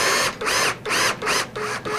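An 11/64 drill bit boring a hole in a small shop, short loud whining bursts of the drill starting and stopping in a quick on-off rhythm, four or five pulses in a row.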